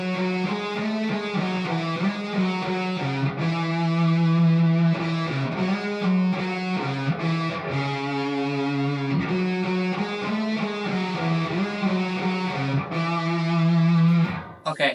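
An effects-laden, distorted electric guitar works through the closing phrase of a riff, long sustained notes stepping between pitches in a smooth, singing line, close and steady until a sudden cutoff near the end.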